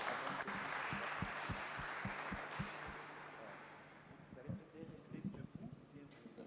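A church congregation claps together indoors in a dense, roomy wash of applause, a rhythmic beat of hands in time running beneath it, fading to scattered louder claps toward the end.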